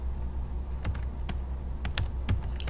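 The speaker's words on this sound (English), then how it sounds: "here we're going to type in our email address" Computer keyboard being typed on to enter an email address: scattered quiet key clicks in short irregular bursts over a low steady room hum.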